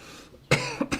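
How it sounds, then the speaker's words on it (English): A single close cough from a commentator at an England v USA golf croquet test match, a sharp burst followed by a smaller catch of breath, with a quiet room hum underneath. "Excuse me while I cough."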